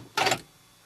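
A key slides into the ignition of a 2007 VW Touareg, giving one brief, close metallic click and rattle that fades into quiet.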